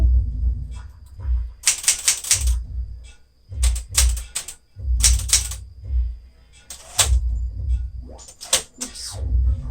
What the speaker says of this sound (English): So you can see, I mean, it's just really smooth typing.